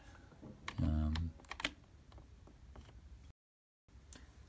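Rapid clacking of an IBM Aptiva 2194 desktop PC keyboard's keys in a short burst, fairly close, followed by quieter scattered clicks and a brief dropout.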